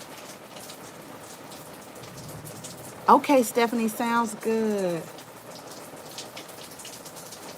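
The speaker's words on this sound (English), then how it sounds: "It's raining." Soft, steady rain patters in the background throughout, while someone speaks briefly over it in the middle.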